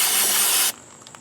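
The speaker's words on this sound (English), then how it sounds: "clean in here just a bit with the carb spray" A steady, loud spray of carburetor cleaner on a Billy Goat BC2600 brush cutter hisses for under a second, then cuts off abruptly, leaving faint small clicks and quiet room noise.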